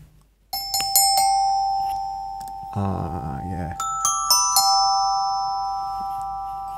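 A glockenspiel is miked and struck in bright, ringing metallic notes: a quick cluster, a held tone, then more strikes with long decays. A short low rattle sits in the middle, and one voice briefly speaks.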